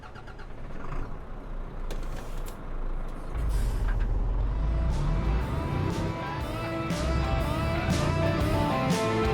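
An Iveco Stralis truck in Euro Truck Simulator 2 rumbles with a steady low engine drone that deepens and swells as it pulls away, with short hissing bursts like air brakes early on and no voices.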